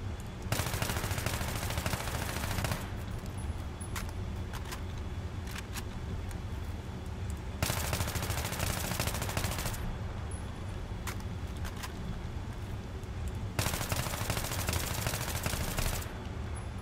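Bursts of AEK-971 rifle fire in Battlefield 3, three long sustained automatic volleys separated by quieter gaps with scattered single shots, loud and dense throughout.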